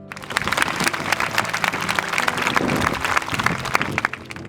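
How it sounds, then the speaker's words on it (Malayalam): A sermon audience claps together in dense, sustained applause that holds steady for several seconds, loud and close, with no voice over it. "കൈയടിച്ചോ? കൈയടിക്കണ്ടെന്ന് ഞാൻ പറയില്ല."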